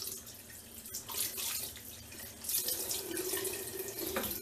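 Tap water runs steadily into a bathroom sink while a cloth is rinsed during an evening skincare routine, a close, continuous splashing hiss with shifting gurgles and no voices.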